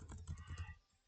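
Keys on a computer keyboard clack in a quick, soft burst of about half a second during a Roblox game session, then fall away into quiet, with no voices over them.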